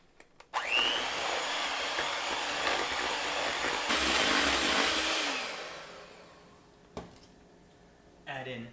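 An electric mixer beats softened butter and sugar in a bowl for a cake base, starting with a click, then whirring at a steady loud drone for several seconds before winding down, with a brief clatter afterward.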